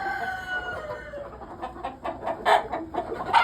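Bresse chickens on a breeding farm cluck in a busy flock, a steady chorus of short calls that grows louder and choppier toward the end, with a crow or two standing out among them.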